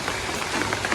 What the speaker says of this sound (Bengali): কয়দিন ধরে, একটানা ভালোই বৃষ্টি হচ্ছে।